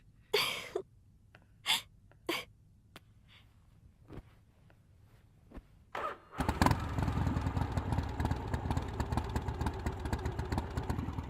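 A few sharp breathy bursts are followed by a motorcycle engine that fires up and runs steadily and loudly, with a rough continuous drone in a film scene.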